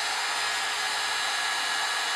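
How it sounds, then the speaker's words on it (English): A heat gun blows on high or low setting to shrink heat shrink tubing around silicone wires, giving a loud, steady, broadband airflow roar that holds unchanged throughout. "you're just going to hit it with the heat gun"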